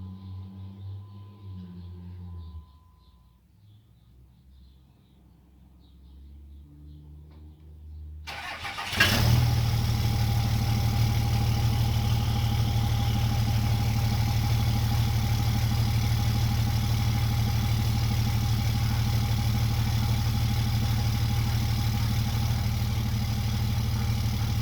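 A Ram truck's Cummins diesel engine cranks briefly after near silence, then catches and settles into a loud, steady, rumbling idle that continues close by to the end.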